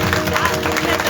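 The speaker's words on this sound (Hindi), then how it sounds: "जोर से ताली होनी चाहिए" A congregation claps loudly during a church service, a dense burst of many hands clapping at once, close and continuous across the short moment, with faint voices mixed in.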